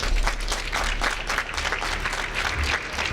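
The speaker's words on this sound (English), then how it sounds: "More of an applause." Dense, steady applause from a conference panel audience at a World Bank event on African broadband, a loud continuous wash of many hands clapping throughout with no speech on top.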